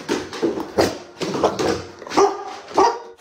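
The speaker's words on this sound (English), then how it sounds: "This dog was not ready for the magic trick." A dog barks in a series of short, close yelps and whimpers, about five or six bursts spaced irregularly, loud and near with no talking over them.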